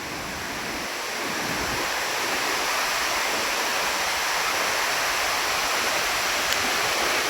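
Water of Kothapalli waterfall sliding down over rocks, a steady broad rushing roar that holds constant and loud throughout, with no voices.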